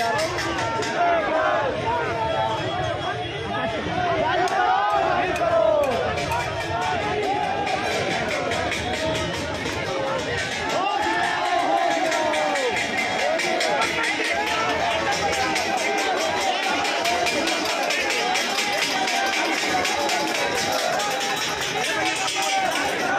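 A large crowd of protesting students fills the streets of Lucknow, campaigning for a primary teacher recruitment notice; a dense, continuous babble of many voices and shouts carries steadily throughout, loud and close.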